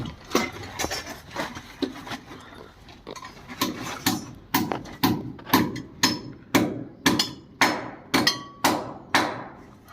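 Hammering during plumbing work on a house construction site: repeated sharp strikes, irregular at first, then settling into a steady, evenly spaced rhythm of loud, close blows with a faint ringing edge.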